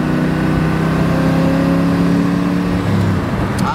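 A Chevrolet Chevelle with a 327 V8 and Powerglide transmission drives along, its engine drone steady and loud from close by with slight shifts in pitch as it pulls.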